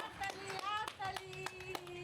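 Several people clap their hands at a small family Holi gathering after a balloon pops, a brief uneven round of sharp claps mixed with children's chatter and talk close by.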